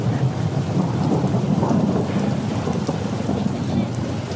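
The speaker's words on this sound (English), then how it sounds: "I like the storm." Thunderstorm in the video game A Blind Legend: a steady, dense wash of rain with a low thunder rumble underneath, holding an even loudness throughout.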